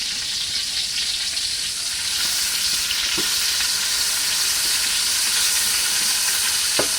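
Morning glory (water spinach) stir-fried with egg sizzles loudly in a hot pan, a steady bright hiss of frying with occasional soft scrapes of stirring and no talk over it.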